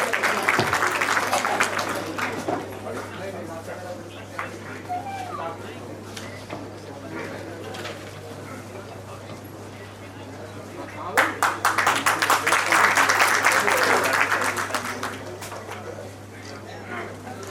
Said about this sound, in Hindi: जोरदार तालियां आप उनके लिए बजा दें।